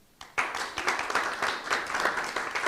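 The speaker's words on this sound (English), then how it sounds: "It's nice to feel this applause." A live audience at a panel event on men's emotional health breaks into steady applause. Many hands clap in a dense, even wash that starts abruptly and holds at moderate loudness.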